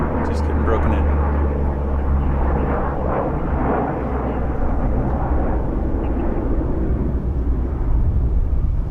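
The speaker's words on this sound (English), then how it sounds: "So here's the C-130." A C-130 firefighting air tanker flies over a wildfire scene, a loud, steady low engine roar filling the whole stretch while people talk over it.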